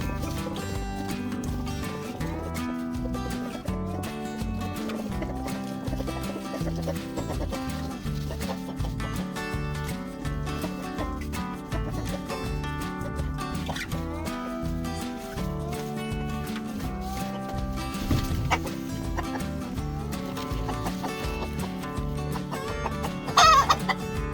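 Araucana chickens cluck in their coop with repeated short calls rising over a steady, dense layer of background music throughout.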